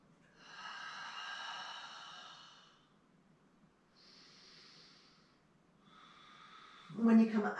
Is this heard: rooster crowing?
no